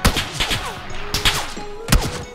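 Bursts of gunfire crack out from across a road in PUBG Battlegrounds, several sharp loud volleys spaced over a couple of seconds with faint rapid shots between them, no talking.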